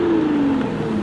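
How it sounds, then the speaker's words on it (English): A supercar engine revs steadily at close range, a sustained droning note that sags slightly in pitch as it holds, loud and continuous with no talk over it. "I cannot tell you how good that car sounds"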